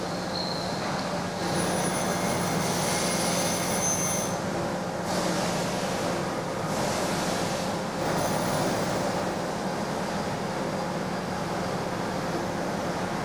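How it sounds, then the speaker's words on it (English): Steady grinding hiss of a surface grinder wheel being dressed runs continuously, with faint periodic high squeals and a slight rhythmic chatter from an out-of-round wheel, close and unbroken. "when you're dressing the wheel, if it's out around, you can hear it chatter"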